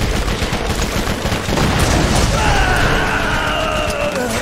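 Rapid bursts of automatic gunfire from a weapon in the Borderlands shooter game, loud and close, with a brief pause midway and a sharper ringing report near the end.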